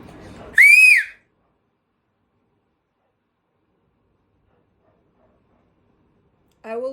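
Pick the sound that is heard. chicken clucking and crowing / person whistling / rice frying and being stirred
person whistling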